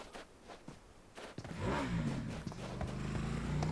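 A motorbike engine in the mobile battle-royale game PUBG Mobile grows from quiet scuffling into a steady, rising engine drone that holds loud through the rest of the clip.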